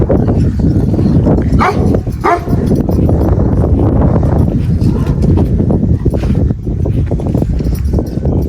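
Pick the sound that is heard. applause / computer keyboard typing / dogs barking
dogs barking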